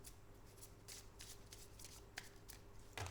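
Tarot cards shuffled and drawn by hand, with soft rapid riffling and flicks and a few sharper snaps, close and quiet.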